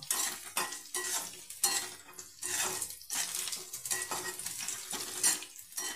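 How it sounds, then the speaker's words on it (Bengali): Garlic, white cumin and black cumin frying with chilli and onion in a pot, with bursts of sizzling and repeated scraping and clinking of a spatula stirring against the metal, close up. "এর মধ্যে রসুন, সাদা জিরে আর কালো জিরে আমি দিয়ে দিলাম। এটা আমি লাল করে নেব।"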